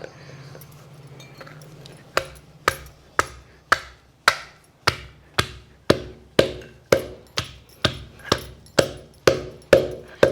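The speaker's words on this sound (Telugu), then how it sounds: "కొబ్బరి మనం రోట్లో వేసి దంచేస్తా" Steady, rhythmic pounding in a stone mortar, about one heavy thud per second, each strike sharp and close with a short ringing decay.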